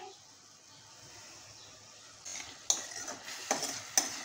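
Tomatoes cooking in a pan as the lid is lifted: a soft steady sizzle, then sharper clinks and stirring scrapes near the end, close by.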